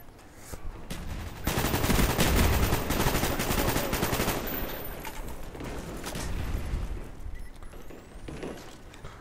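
AK-47 gunfire in the video game Call of Duty Black Ops rattles in loud, dense automatic bursts that hold for several seconds, then fade to scattered shots.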